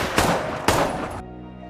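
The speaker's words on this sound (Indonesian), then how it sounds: "Dia malah menembak Robert dari arah belakang dengan menggunakan shotgun yang ada di mobil." Two sharp, loud shotgun blasts about half a second apart, each with a booming tail, followed by a ringing, humming fade.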